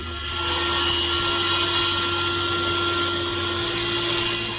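A steady, continuous band saw hum with a rough rasp cutting wood, running close and loud for several seconds, no talking.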